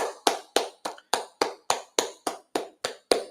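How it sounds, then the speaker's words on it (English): A single person clapping their hands in a slow, even rhythm, about eleven sharp, close claps spaced roughly a third of a second apart, with each one decaying quickly into silence. "Can we just give a round of applause for that?"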